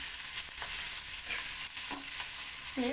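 Chopped carrots and beans sizzle in hot oil in a pan, a steady frying hiss with a few scraping stirs of the spatula, close and fairly loud, with no talk.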